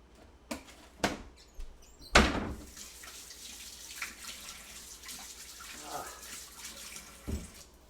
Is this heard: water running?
yes